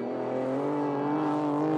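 A car engine drones steadily while driving on ice in Sweden at around minus 30 degrees, a close, smooth humming tone held for a brief moment without voices.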